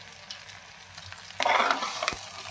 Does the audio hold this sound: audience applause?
no